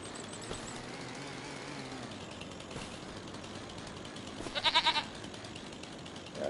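A goat in Farming Simulator 25 bleats once in a short wavering call, moderately loud over a steady background hum of game ambience.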